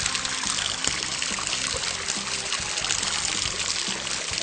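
Steady, close trickling and splashing of water from a hot sulfur spring at a spa resort, running continuously with no talk over it.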